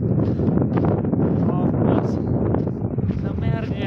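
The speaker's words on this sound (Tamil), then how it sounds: "அப்பா சரியான காற்று அடிக்குது." Strong wind gusting near a waterfall area, roaring and buffeting the microphone continuously, with people talking over it.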